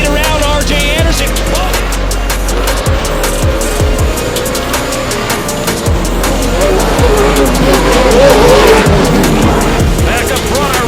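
Pro 4 off-road race trucks roar past in round 6 of a short-course race, loud continuous engines with shifting pitch and passing surges, a race commentator talking over the noise throughout.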